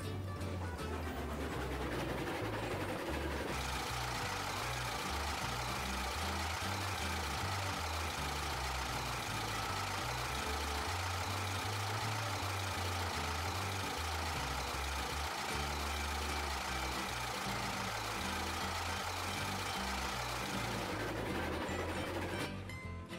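Locomotive engine in the RailRoads Online game running steadily at a loud, continuous low rumble with layered mechanical hum and texture throughout, no talking over it.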